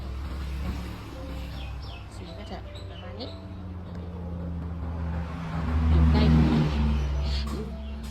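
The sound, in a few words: road traffic, cars passing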